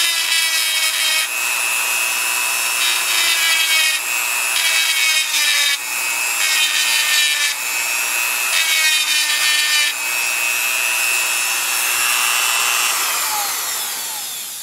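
Power tool grinding or drilling into brass brake lining rivets on a 2840 Workhorse Chinese tractor, a loud continuous high whine that rises and dips in several bursts over about fifteen seconds, with no talk.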